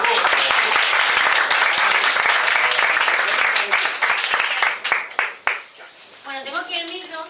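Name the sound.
audience applause of welcome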